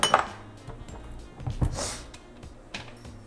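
Spoon stirring adobo seasoning into collard greens in a pot, soft clinks and scrapes against the pot sounding close and fairly quiet, irregular over a few seconds.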